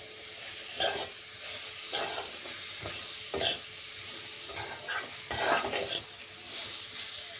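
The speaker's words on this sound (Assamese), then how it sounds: "আৰু এইখিনিও সুজিখিনিৰ লগতে আৰু অলপ ভাজি ল'ম" Semolina and milk chhena fry in a pan while being stirred, giving a steady close sizzle with repeated scraping strokes of the spoon and no talking.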